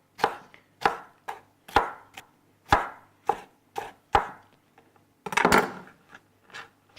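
A knife chops peppers on a cutting board in about a dozen crisp, evenly spaced thuds close up, with a brief clattering scrape near the end and no speech.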